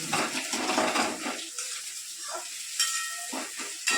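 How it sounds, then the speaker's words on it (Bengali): Onions frying in hot oil in a home wok (kadai) while chicken kosha is prepared, with a loud hissing sizzle at first that settles into quieter crackling and occasional bursts. "এখন কড়াইয়ে তেল দিয়েছে, তারপর পেঁয়াজগুলো দিয়েছে, ভাজছে"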